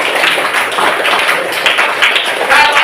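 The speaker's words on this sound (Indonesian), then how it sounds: "Tepuk tangan." Children in a classroom clapping briefly, a quick, even run of close hand claps lasting a few seconds.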